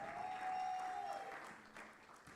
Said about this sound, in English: a massive, massive round of applause for Sasol